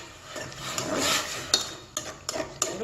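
Garlic, green onion and blanched mussels stirred in a pot as it starts to boil, giving soft scraping and clinking of a utensil against the pot with a few sharper knocks, close and alone.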